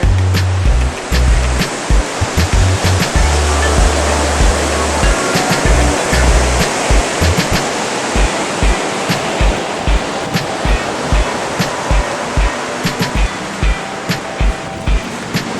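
Ocean surf washes onto the beach at Esterillos, Costa Rica in a loud, steady roar of breaking waves, with heavy low rumbles near the start and no voices over it.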